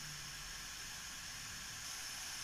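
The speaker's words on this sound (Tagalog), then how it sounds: "mukhang kumukulo na." Repaired electric kettle starting to boil, a steady broad hiss of heating water and rising steam, continuous and fairly faint, with no talk.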